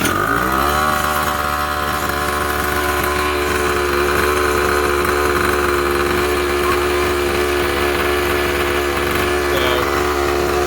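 Gas engine swapped into a Razor MX350 dirt bike, in place of the original electric motor, runs steadily after starting, a loud, close, continuous buzzing drone with a sharp rattly edge and no talk over it.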